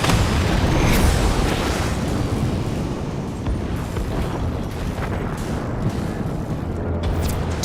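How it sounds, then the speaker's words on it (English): A cannon shot in the video game Warframe strikes and destroys a galleon, heard as a loud, sustained roaring blast of explosive noise that fills the whole span without pause. "Direct hit. The galleon has been obliterated."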